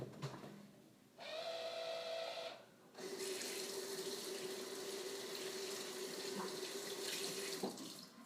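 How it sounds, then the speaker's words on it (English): Running tap water pours steadily into a sink during handwashing in a kitchen, a close, continuous rushing hiss interrupted briefly once before the flow resumes and continues to the end. "So, I'm going to wash my hands"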